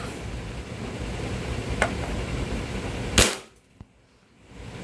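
Several sharp airsoft shots from a tan EC Glock 19 pistol fired through a chronograph during an FPS test, a faint one then a loud crisp crack followed by near silence and one more faint tick.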